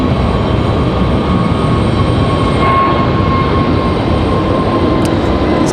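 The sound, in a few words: Frontier airliner departing the airport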